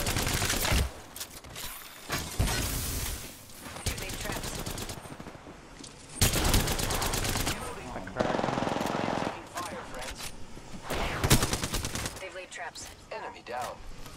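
Sustained automatic gunfire rattles in the video game Apex Legends, in long rapid bursts with brief gaps between them. The shots are loud and dense throughout.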